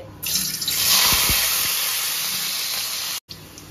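Potatoes frying in hot oil for ghugni in a home kitchen on a stormy day, a loud steady hiss that starts abruptly and continues, cutting off briefly near the end.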